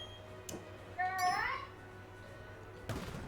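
A house cat gives a single rising, wavering meow indoors, short and clear against a low steady room hum, followed by a dull knock a little later.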